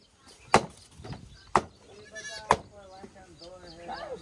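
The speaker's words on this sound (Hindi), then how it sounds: "हरी भाई को भी बकरी का बच्चा बहुत पसंद है।" A young goat kid bleats in short, wavering calls near a wooden enclosure under construction, with people talking and a few sharp knocks of wood alongside.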